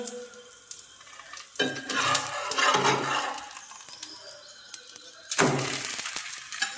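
A gram flour pudla in a pan is scraped and flipped, giving two bursts of scraping and sizzling separated by a quieter stretch of frying.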